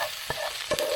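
Onions sizzling softly in a frying pan, a low steady fry with two brief stirring scrapes, no voices.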